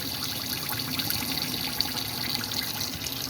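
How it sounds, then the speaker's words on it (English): Hot water runs from the taps inside a Swift Elegance Grande 655 caravan, a steady, moderate hiss and trickle of flowing water that continues evenly throughout with no talking. "Hot water coming out the taps."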